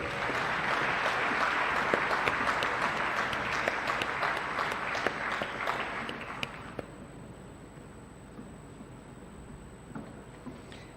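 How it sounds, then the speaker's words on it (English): Sustained audience applause at a BMS degree convocation ceremony in 2023, a dense wash of many hands clapping that stays loud for about seven seconds, then abruptly thins to a quieter, sparse patter. "I hope the applause doesn't die out."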